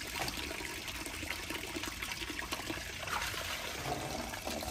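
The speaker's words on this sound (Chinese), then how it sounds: "我在洗这个是沥水篮" Running water streams steadily over a dish drain basket as it is rinsed clean, a continuous close splashing and trickling with no pauses and no talk.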